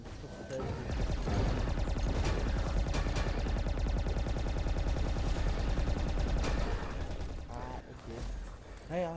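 Rapid bursts of missile gun fire in the game Reflex crackle continuously for several seconds, dense and loud, with layered explosive shots and a brief lull near the end.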